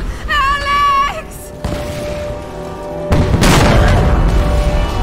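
Explosions and collapsing structures in Tomb Raider Definitive Edition: a dull boom, then a louder blast with crumbling debris rumbling on, after a brief rising musical tone at the start.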